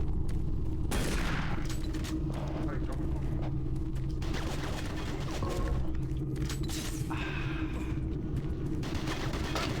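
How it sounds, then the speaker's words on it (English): Bursts of gunfire in Doom 3 crackle over a rumbling game soundscape, with sharp shots clustered throughout and someone talking over them. "Who the fuck is shooting me?"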